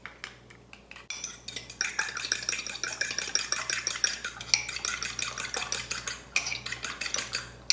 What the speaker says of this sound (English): I always like to give them a little whisk before I add them in so they'll incorporate